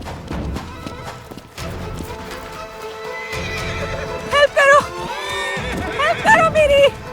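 A horse neighs and whinnies loudly over the clatter of hooves in a dramatic outdoor scene, with repeated high, shaky calls standing out near the end while people shout and talk throughout.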